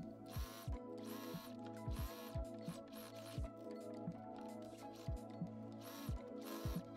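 A sewing machine topstitches a lined ruffle bag in short, rhythmic runs, its soft mechanical clatter and ticking repeating at a steady pace and heard fairly quietly and close.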